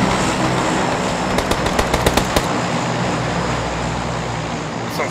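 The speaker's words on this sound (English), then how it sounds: "Some fucking shooting right there." A rapid burst of automatic gunfire in a PUBG squad match, roughly eight sharp shots in quick succession at mid-distance over a steady engine-like drone.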